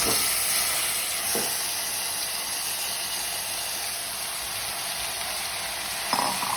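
Tomatoes tipped into a pan of browning onions and chilies set off a steady, close sizzle and hiss of frying that holds evenly throughout, with a couple of faint utensil knocks and no talking.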